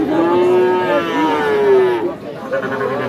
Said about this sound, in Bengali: এখানে একটা দেখছি শাহিওয়াল সার বাছুর